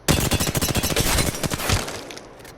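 Rapid bursts of gunfire from an Apex Legends weapon fired with a strike pack switched off, a dense run of close, loud shots that thins out and fades over the final second.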